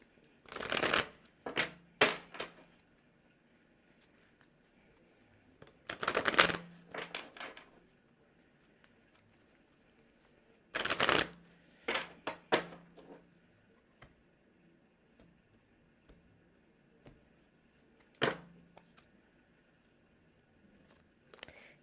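Tarot cards shuffled in short, crisp riffling bursts with quiet gaps between them, close and fairly faint, repeating several times with no voice.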